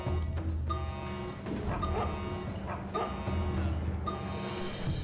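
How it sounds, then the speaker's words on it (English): A dog barks in the stealth video game Mark of the Ninja, a few short yipping barks over a steady, loud game soundtrack with tonal music and low hum. "The dog barked"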